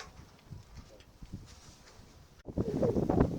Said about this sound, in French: maintenant ça y est, le vent est arrivé